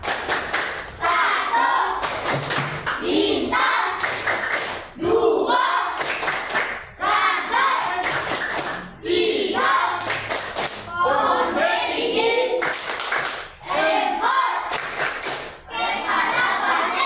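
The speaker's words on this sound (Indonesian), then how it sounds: "Tepuk lambang Pancasila." A school class performs the Pancasila symbol clap routine, rhythmic bursts of many hands clapping together in a classroom, interleaved with children's and a teacher's chanting voices.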